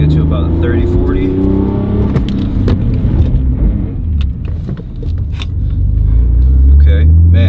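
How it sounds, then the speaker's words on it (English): A Lexus IS300 accelerates hard on a road, its engine a loud, close, steady roar that swells and rumbles throughout, with a voice speaking over it. "I'm gonna push the car, and we're gonna accelerate and then come to as close to the stop as we can"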